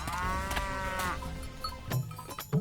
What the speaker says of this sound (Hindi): अरे ये किस बूढ़ी भैंस को उठा लाए?